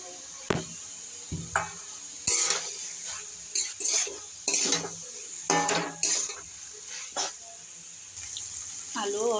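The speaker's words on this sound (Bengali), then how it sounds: "এবার আমি ভেজে রাখা আলুগুলো দিয়ে দেবো।" A spoon clanks and scrapes in a pan as fried potatoes are stirred into a fig and prawn curry. The knocks are sharp, irregular and close, with quiet pauses between them.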